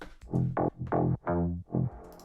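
A handful of short deep house bass synth notes play at an uneven pace, deep and rounded, at a soft level with no voices.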